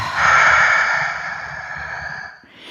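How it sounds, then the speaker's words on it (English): A single slow, deep breath is drawn close to the microphone during a breathing exercise, a long airy rush that fades toward the end. "everyone who's listening can breathe with me right now."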